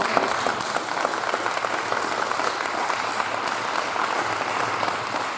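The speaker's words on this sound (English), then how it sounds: "they deserve a big round of applause" A big round of applause fills the room, many hands clapping in a loud, continuous wash with sharp individual claps poking through.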